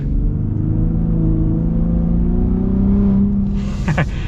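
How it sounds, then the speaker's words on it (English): A 2022 Ford F-150 Raptor on 35-inch tires accelerates hard, its engine note loud and steady, rising and holding through the pull with a brief burst of higher-pitched noise near the end. "Sounds great, and yes, it still accelerates just fine."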